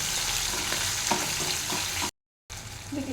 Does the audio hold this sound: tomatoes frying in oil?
yes